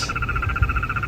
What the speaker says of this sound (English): He's making cymatics with his little frog throat croak thing.